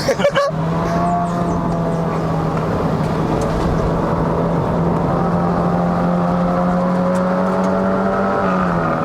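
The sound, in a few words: tuned Honda City hatchback engine revving at 5500 rpm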